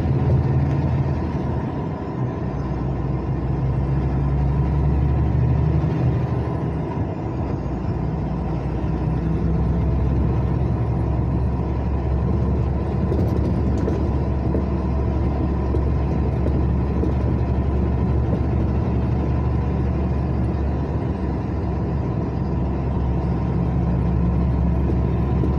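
A semi-truck runs along Brazil's BR 354 highway in Rio de Janeiro, giving a continuous deep engine and road rumble with steady noise throughout and no talking.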